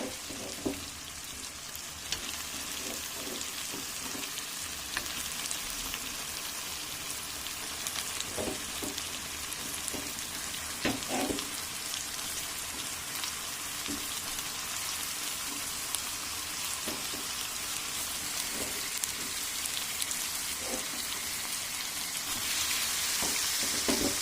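Meat tossed into a pan of well-fried spice masala sizzles and fries steadily, with a broad, continuous crackle and occasional stirring knocks, alone with no talk.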